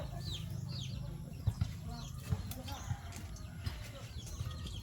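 Chickens cluck and chirp faintly in the background outdoors, with a low murmur of voices and occasional soft thumps.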